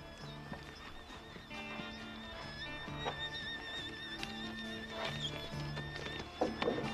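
A horse neighing in a whinny of several high wavering cries, then clip-clop hoofbeats, fairly close, with no voices.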